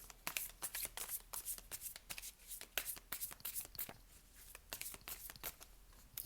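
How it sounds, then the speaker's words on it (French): Quiet, close-up shuffling of a card deck before a draw: a steady run of soft, papery flicks and slides in irregular bursts, with no talking. "on va tirer une carte"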